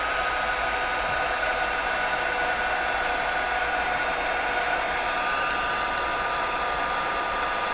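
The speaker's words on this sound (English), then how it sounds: "I'm going to grab my heat tool and I'm going to heat this greeting up." A handheld heat tool melts white embossing powder on a stamped greeting, giving a steady, loud, continuous fan-and-heater whir like a hair dryer that runs unchanged throughout with no talking.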